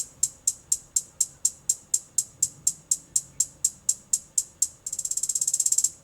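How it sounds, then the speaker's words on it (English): A hi-hat pattern copied from a sample in a reggaeton beat: crisp, evenly spaced closed-hat ticks in a steady run, ending in a fast rapid-fire roll, with no voices. "And then I practically copied the hi-hats that they had in the sample"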